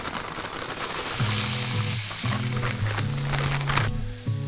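Meatballs sizzling in bacon fat in a hot cast iron pan, a steady close crackle and hiss that runs throughout under a droning, tonal background hum.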